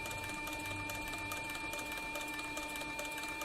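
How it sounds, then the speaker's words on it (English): A leather sewing machine stitching a saddle flank strap while its bobbin winder spins, giving a steady, fast mechanical whirring and rapid ticking close by, with no talking. "my bobbin winder over here is winding the bobbin as I sew this flank strap right here"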